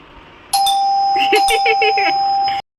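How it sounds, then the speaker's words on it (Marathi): An electronic doorbell on a village house plays a bright chiming melody with a sustained tone, close and loud, lasting about two seconds, with a brief spoken word over it. "एकदाच वाजवा आईला कळेल की बेल वाजले"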